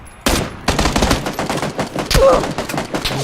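Rapid gunfire bursts from a PUBG Battlegrounds match, loud and dense from a sudden start and continuing in overlapping volleys throughout.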